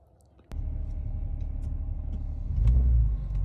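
A 6-cylinder Jeep starts moving on a test drive, its engine rumbling steadily from inside the cabin and building louder near the end as it accelerates.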